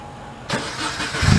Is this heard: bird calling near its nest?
no